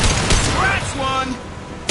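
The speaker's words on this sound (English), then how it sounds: "Firing a high impact shot!" Gunfire and a high impact shot in the video game Mass Effect 2, with sharp loud bursts at the start and a closing blast amid game noise and a voice talking.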